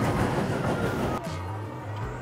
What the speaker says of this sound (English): I'm trying to get the train and the barnstormer sign in the same shot